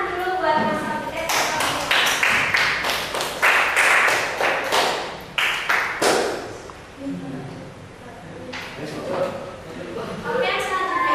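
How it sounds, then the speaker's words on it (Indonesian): A small group at a student psychology presentation claps for a speaker, with loose, sparse bursts of hand claps rising and fading over several seconds, fairly close and uneven in rhythm. "tepuk tangan dulu buat Mas Abdul."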